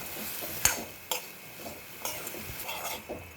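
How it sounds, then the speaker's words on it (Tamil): Mint leaves being sautéed with salt in a pan, giving a faint, steady sizzle punctuated by a few sharp clinks and scrapes of a spoon against the pan, with no talking. "இதுவும் சேர்த்து ஒரு 2 நிமிஷம் போல நல்லா வதக்கிக்கலாங்க"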